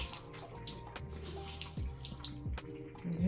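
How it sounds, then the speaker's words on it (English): Water splashes and trickles from a kitchen tap onto a disposable face towel, a steady close running-water wash with a few gurgling surges, no talking. "So I'm gonna put some water on it."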